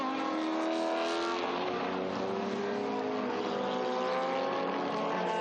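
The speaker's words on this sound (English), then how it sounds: "That's Frederic de Rocha in the Lola T298" A Lola T298 2-litre historic racing car screams past nearby, its high-revving engine loud and continuous throughout, layered with other engine noise and no talking.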